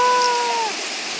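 A mountain stream in Daewonsa valley, Sancheong, rushes steadily and evenly, with a brief thin whistling tone over the water at the start.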